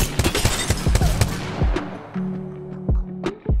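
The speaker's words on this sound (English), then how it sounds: "Here's the G7 with all body shots," Repeated sharp gunshots from the G7 Scout rifle in Fortnite Season 8, landing as body shots, crack out one after another in a rapid, uneven sequence with ringing tails and low thumps between them.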